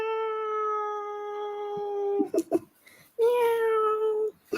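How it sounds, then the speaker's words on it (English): A long, drawn-out cat meow, then a short pause with a few small noises, and a second extended meow up close. "Is my kitty cat there? Meow."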